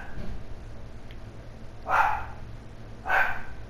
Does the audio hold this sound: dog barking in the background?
yes